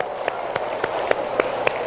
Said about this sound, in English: Help me clap, that's it.